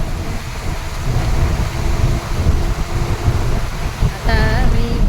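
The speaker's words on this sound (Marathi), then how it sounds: "खेडला पण पाऊस भरपूर पडतोय." Heavy monsoon rain pours steadily on the Konkan coast near Khed, with runoff rushing down the hills; a dense, loud, continuous wash fills the whole stretch, with a brief tonal whine near the end.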